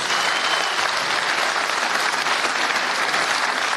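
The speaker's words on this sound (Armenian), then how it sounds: "ծափահարեք այդ օրվան" An audience at a political speech breaks into sustained, dense applause, a steady wash of clapping that stays loud and even throughout.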